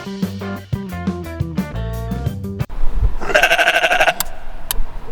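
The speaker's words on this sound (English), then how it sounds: "the sheep bleats to communicate with its flock" A sheep bleats loudly and close in a long, wavering, pulsing cry that follows a short burst of music.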